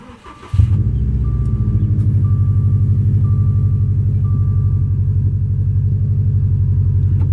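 A 2016 Subaru WRX STI engine cranks and catches, then settles into a loud, steady, rumbling idle close by, with a faint electronic chime pinging at intervals.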